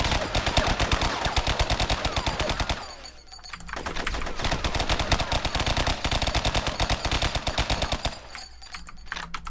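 Rapid automatic gunfire in the multiplayer video game Sub Rosa, loud and close, in long sustained bursts broken by a couple of brief pauses.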